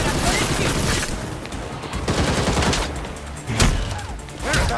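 Gunfire in the Gotham Knights video game: a dense, continuous rattle of rapid shots layered with game effects, with sharper bursts near the middle and end, while a voice talks over it.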